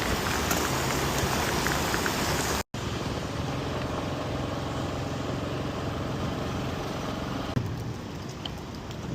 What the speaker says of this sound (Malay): Oi, hujan lebat weh.